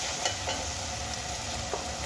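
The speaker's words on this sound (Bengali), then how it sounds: "এবার সমস্ত গুঁড়ো মশলাগুলো আমি মিশিয়ে নেব।" Ground turmeric and other powdered spices being stirred in a frying pan for a Bengali potato, paneer and pea curry, with a dense continuous sizzle and a few faint spoon scrapes.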